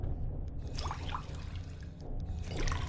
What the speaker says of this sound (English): So they added this ability to fill up the bottles with purified water.